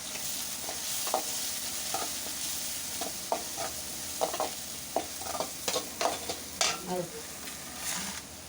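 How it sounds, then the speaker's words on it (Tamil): Onion, curry leaves, crushed garlic, pepper and cumin sautéing in a pan, a steady sizzle under repeated scraping stirs of a spoon against the metal, close and fairly loud, no voices. "இப்போ அதை நல்லா வதக்கிக்கலாம்."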